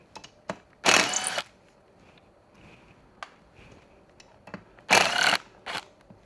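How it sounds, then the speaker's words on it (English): Metal Allen key work on the basket mounting screws of a Sobowo fat-tire electric tricycle: two loud, brief bursts of metallic rattling about four seconds apart, with small clicks and taps in between, close up and with no talking. "I'm going to start by removing the basket mounting screws"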